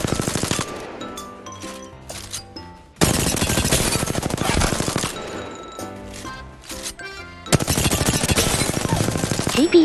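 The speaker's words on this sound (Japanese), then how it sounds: "銃を撃つとこんな感じです。" Rapid automatic gunfire in the video game Apex Legends played at default settings, dense bursts of loud repeated shots cutting in and out with brief gaps between volleys and no talking.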